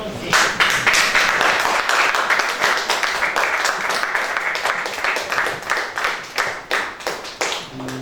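A church congregation applauding: dense, steady clapping from a crowd in a hall, fairly loud and continuous throughout.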